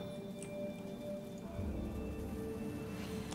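Steady rainfall in the video game Divinity: Original Sin Enhanced Edition patters over a low rumble, with scattered drops pinging and a faint roll of thunder underneath.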